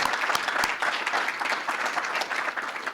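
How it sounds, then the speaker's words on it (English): An audience at a school scholarship press conference applauds the parents, a dense steady wash of many hands clapping throughout, fairly close and continuous with no talk over it. "Can we give another round of applause for our parents,"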